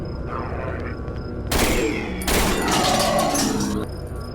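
Two loud, close bursts of assault rifle fire in the video game Cry of Fear, each a rapid cluster of shots followed by a brief ringing tail, over a low steady background drone.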